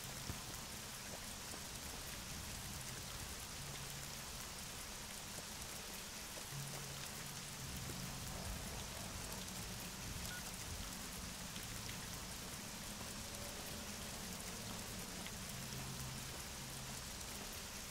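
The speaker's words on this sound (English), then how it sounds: "It's still raining." Steady rainfall in the video game Fallout: New Vegas, a dense, even hiss of drops on surfaces with faint low rumbles underneath, continuous and moderately quiet throughout with no voices.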